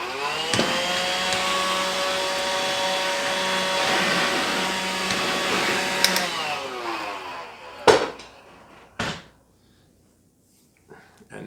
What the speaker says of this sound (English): I'm gonna get my little vacuum cleaner out.